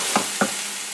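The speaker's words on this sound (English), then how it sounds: "we got the onions and the garlic sauteing right now" Onions and garlic sautéing in a pan, a steady soft sizzle broken by two quick stir clinks, close and alone.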